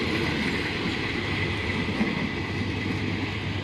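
A Thai passenger train bound for Phitsanulok runs on the rails near Chiang Rak station, giving a steady broadband rumble and rattle heard from inside the carriage, moderately loud and continuous, with no voices.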